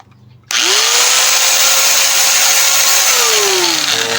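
A repaired angle grinder with a fixed lock button starts abruptly and runs steadily, a loud close motor whine that holds constant before spinning down slightly near the end.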